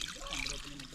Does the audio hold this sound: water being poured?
yes